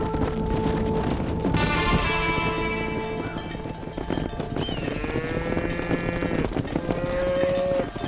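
A cattle herd in Red Dead Redemption moos repeatedly, several drawn-out lowing calls overlapping with hoofbeats and ranch ambience at moderate distance.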